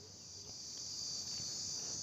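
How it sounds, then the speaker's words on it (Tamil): Cicadas in a hill forest near Dharmapuri drone in a continuous high, shrill buzz that holds steady throughout, moderately faint with no other sounds. "சிலிவண்டு எப்படி கத்துது, உங்களுக்கு கேட்குதுங்களா?"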